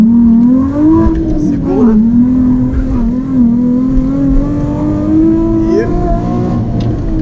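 A Nissan 350Z on a fast lap around the Guapimirim kart track, its engine droning loudly and steadily with pitch rising and falling through shifts and corners, while someone talks over it.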